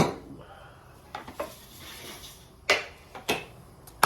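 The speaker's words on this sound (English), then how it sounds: "Green beans, I'm going to lay these out in a pan" Green beans laid out in a pan, with soft scattered clicks and taps of the beans and a utensil against metal, quiet and irregular.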